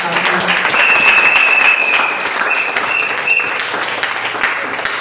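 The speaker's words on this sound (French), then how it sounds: "Est-ce qu'on va acclamer?" A church congregation breaks into loud, sustained applause, a dense wash of clapping that fills the space throughout, with a faint whistle or cheer riding above it.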